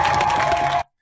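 Crowd at a street rally cheering and clapping, a loud dense roar of voices that holds steady for under a second and then cuts off abruptly.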